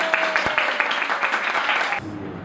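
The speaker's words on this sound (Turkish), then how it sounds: "Kocaman bir alkış alalım size." Applause for couples at a mass wedding ceremony in Hatay, a brief burst of crowd clapping lasting about two seconds before cutting off into quieter room sound.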